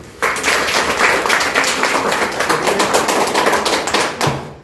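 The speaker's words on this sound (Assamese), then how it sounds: "গতিকে সকলোৱে তোমালোকে হাত চাপৰি দিয়ে" Students clapping their hands after a school science activity on water infiltration, a dense, loud round of applause that holds steady and then fades out abruptly near the end.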